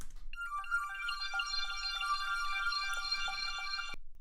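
A bright synth arpeggio plays a fast repeating pattern of high, bell-like notes, clean and steady, then cuts off abruptly.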